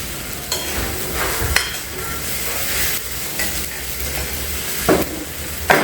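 Whole rice roasting in ghee with green chillies in a pan gives a steady sizzle and hiss, broken by scraping stirs of a spoon against the metal, with no voices.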